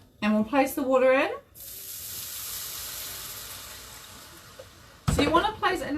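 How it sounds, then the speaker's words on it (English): Water poured into a hot pan of frying chickpea dumplings sets off a loud, steady sizzling hiss that lasts several seconds, with a person talking just before and just after. "And we'll place the water in."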